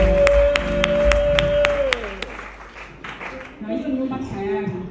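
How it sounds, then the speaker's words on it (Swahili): Church congregation claps and ululates in praise of Jesus, loud clapping bursts with high trilling over a sustained tone, then mixed crowd cheering and voices. "Piga Yesu makofi na vigelegele"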